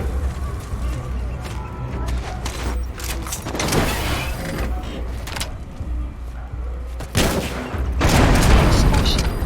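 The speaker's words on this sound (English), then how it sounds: "Explosion." In Metal Gear Solid V gameplay, booming explosions and bursts of gunfire-like blasts erupt repeatedly, with heavy rumbling hits and a louder swell near the end amid game sound effects.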